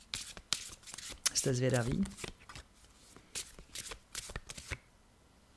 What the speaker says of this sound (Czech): No a já už tady budu míchat